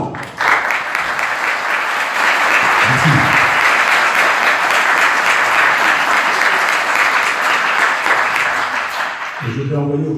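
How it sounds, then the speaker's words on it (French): A literary event audience gives warm, loud applause to the artists and the Philharmonie orchestra, steady dense clapping sustained for about ten seconds, with a brief spoken word near the end as it fades. "Je vous propose de les applaudir chaleureusement."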